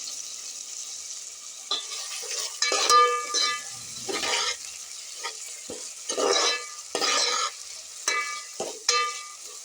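Vegetables with two chopped green chilies being stir-fried for vegetable biryani, a soft sizzle with repeated scraping stir strokes in uneven bursts, close and moderately loud with no talk.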